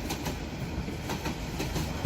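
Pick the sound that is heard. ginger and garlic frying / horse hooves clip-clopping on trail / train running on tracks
train running on tracks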